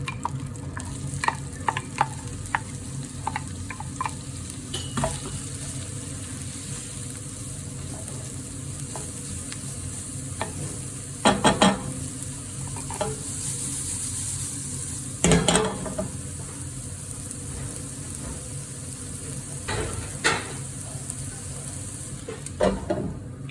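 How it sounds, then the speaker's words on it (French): Onions frying gently in butter in a pan, a steady close sizzle running throughout with intermittent scrapes and clacks of a utensil stirring them, with no talking. "Et on va faire revenir les oignons délicatement."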